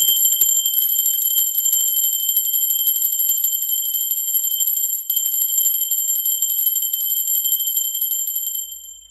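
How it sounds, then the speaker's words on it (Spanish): A bell rung during a spiritual ritual, heard as a steady, sustained ringing tone with bright high overtones that holds for about nine seconds before fading at the end, with no talking. "va campana"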